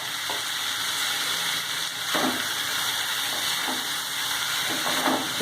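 Schezwan fried rice with leftover rice being stir-fried in a hot pan, a constant loud sizzle with repeated scraping and tossing strokes of a spatula, close by and without voices.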